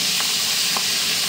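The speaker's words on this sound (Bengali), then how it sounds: "ট্যাংরা মাছ কিন্তু প্রচণ্ড ফোটে" Tangra fish sputter and hiss in hot oil in a pan, a loud continuous sizzle with a couple of sharp pops over its short length.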